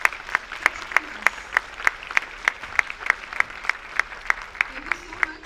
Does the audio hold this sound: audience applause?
yes